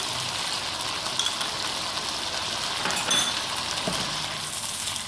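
Yogurt stirred into a sizzling masala for apple gourd cooks in a pan, a steady close hiss of frying with soft scraping and an occasional light clink from the spoon.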